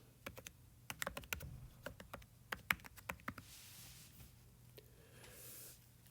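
Quiet typing on a computer keyboard while entering food into a nutrition tracking website, with bursts of rapid key clicks, short pauses and a faint background hum.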